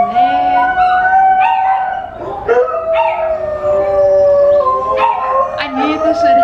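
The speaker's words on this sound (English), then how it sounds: "Why are all the dogs barking?" Several dogs bark and howl together, with long rising and falling howls and sharp yips overlapping continuously and loudly up close.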